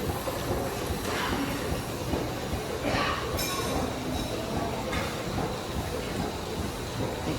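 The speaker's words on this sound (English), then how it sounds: "All different types of pump powered by steam." Steam-powered antique pumps run together at an outdoor antique gas engine and tractor show, a steady mechanical clatter with rhythmic clinks and chuffs, continuous and fairly loud throughout.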